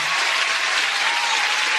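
Crowd applause at a live stream event, a loud, dense, continuous burst of clapping filling the brief moment with no talk over it.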